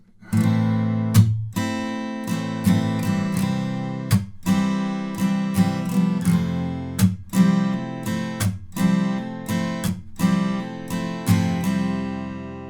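An acoustic guitar strums the verse of a song in a long pattern with muted strums, steady rhythmic chord hits with sharp percussive chucks between them, close and alone.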